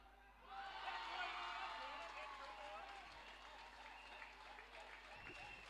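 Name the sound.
applause at cricket tournament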